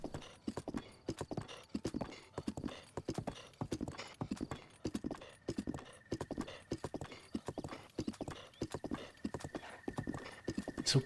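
Steady rhythmic clip-clop of horse hooves at a trot in the video game Breath of the Wild, repeating evenly for about eleven seconds, with a faint high tone running beneath the footfalls.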